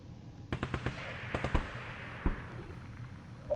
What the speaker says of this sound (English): our gun blew up when we tried to shoot the thing